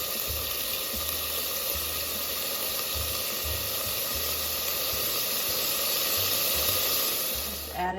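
Sausage browns in a hot pan with a loud, constant sizzle and hiss that holds steady throughout, heard close up with faint low knocks underneath.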